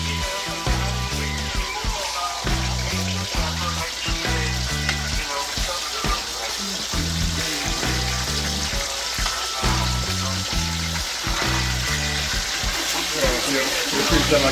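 Escovitch fish sizzles and crackles steadily in a hot pan, a continuous frying hiss running throughout with occasional watery bubbling.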